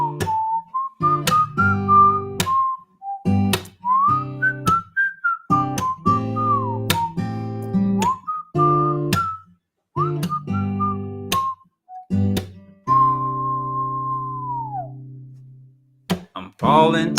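A person whistles a bright melody close up in short phrases, with sharp percussive knocks and plucked accompaniment punctuating it and a long held note near the end.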